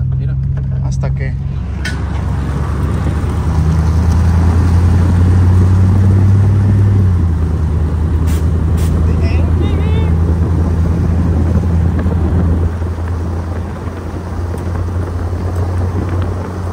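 A 2005 Chevy pickup truck with new suspension work drives along, its engine a steady loud low rumble that rises in pitch midway, with people talking over it.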